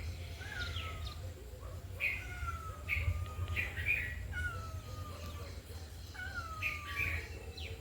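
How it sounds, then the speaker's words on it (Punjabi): A cat at a rural Punjabi home during rainy weather gives a series of repeated mewing calls, moderately near, spaced irregularly over a steady low background rumble. "ਇਹ ਦੱਦ ਨੂੰ ਆ ਗਈ ਬਿੱਲੀ"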